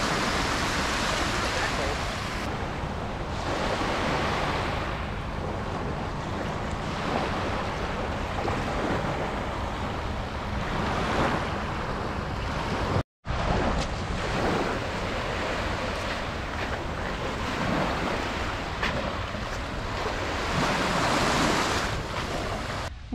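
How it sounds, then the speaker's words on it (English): Waves washing onto a Lake Michigan beach at Indiana Dunes on a foggy day, a continuous broadband surf roar mixed with wind buffeting the microphone, with a brief dropout midway. "We just walked out onto the beach and we have Lake Michigan right in front of us."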